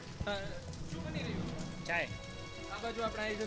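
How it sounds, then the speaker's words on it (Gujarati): Steady rain patters down in a continuous wash of hiss, with voices talking over it. "આ એક તરફ વરસાદ પડી રહ્યો છે"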